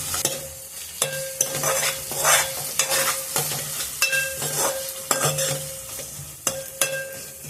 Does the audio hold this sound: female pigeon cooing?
no